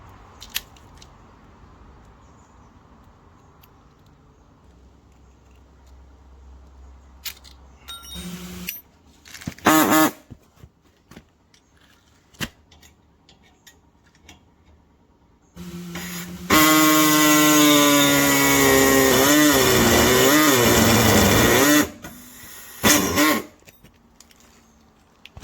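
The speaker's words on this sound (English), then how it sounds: "Take this here wee guard off the hacksaw here to get cut the whole way through" Hacksaw blade cutting through the catalytic converter of a diesel Mk3 Golf exhaust, heard as short bursts of harsh metallic rasping, then a long, loud, steady stretch of sawing strokes close by, with no talking.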